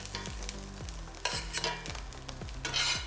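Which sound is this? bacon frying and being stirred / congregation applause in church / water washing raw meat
bacon frying and being stirred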